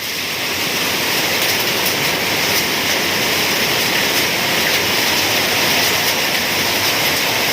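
Hail pouring down for nearly an hour in a severe hailstorm, heard as a dense, steady, loud roar of hailstones without a pause.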